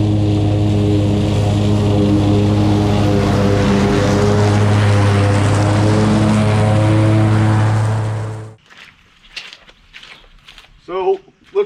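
A Grasshopper 125V zero-turn mower runs loud and close with a steady engine drone and strong low hum for about eight seconds, then cuts off, leaving near silence with a few faint sounds.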